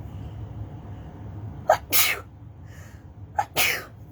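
Two sneezes in a row, each with a sharp intake and a loud burst, spaced about two seconds apart, close to the microphone.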